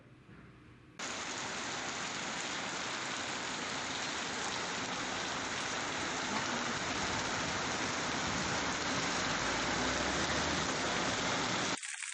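Heavy unseasonal rain in Marathwada, India, pours down steadily in a dense, even hiss that starts abruptly and continues without pause, with no voices.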